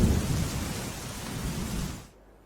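A thunderstorm brings steady heavy rain hissing on surfaces with a low rumble of thunder, loud and continuous before dropping off abruptly near the end.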